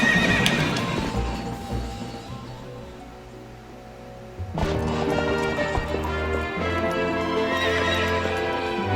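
In The Legend of Zelda: Twilight Princess, a horse whinnies loudly, then hooves pound in a steady galloping clip-clop over a musical backdrop, with a second neigh midway.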